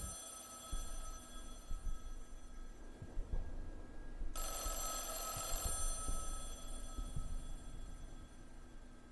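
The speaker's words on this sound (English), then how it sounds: "Maybe the phone downstairs is ringing?" A telephone ringing downstairs in a Haunted PS1 horror video game: a faint, far-off repeating ring over a low hum, with an electronic tone joining partway through.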